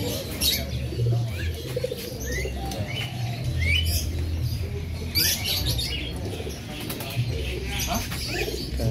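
Pigeons coo and chirp amid a busy crowd at the Tunggorono bird market in Jombang, with wings flapping and people talking in the background.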